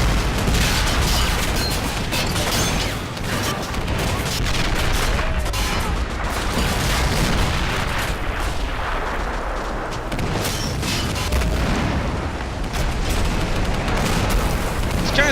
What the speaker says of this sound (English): Those are very thick mortars, I must say.